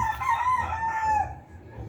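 A Gilmore Hatch cross gamefowl rooster crows once nearby, a loud drawn-out call rising and then trailing off, heard alone against quiet background.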